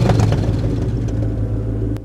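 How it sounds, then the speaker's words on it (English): A car engine sound effect from a killer-car horror game gives a close, heavy low rumble that holds for about two seconds. "That sounded like a car in the hallway."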